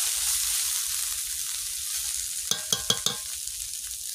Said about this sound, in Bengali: লাল লাল ভাজা হবে